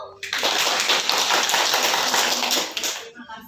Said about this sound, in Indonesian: Coba tepuk tangan buat kelompok 1.